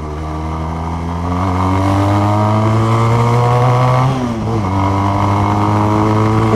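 A Benelli Patagonian Eagle Motobi 250 motorcycle pulls hard on the road, its engine note climbing steadily in pitch, briefly dropping at a gear change, then rising again, loud and close throughout.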